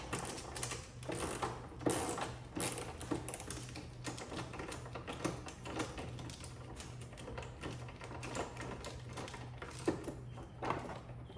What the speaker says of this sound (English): There's 2 bolts here and there. Also 10mm, go ahead and get those removed.